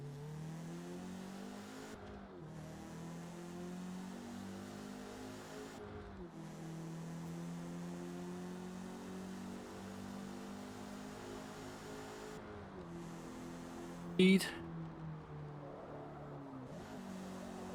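Race car engine in the Forza Motorsport video game, revving hard and steadily with short dips at gear changes and a brief sharp squeal near the end, close and alone.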